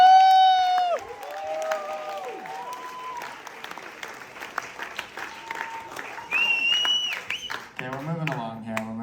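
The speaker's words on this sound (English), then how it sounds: "Round of applause for that." An audience at a comedy show in Moncton claps and cheers, the applause falling away after the first seconds while a voice speaks over it and cheers rise again briefly near the end.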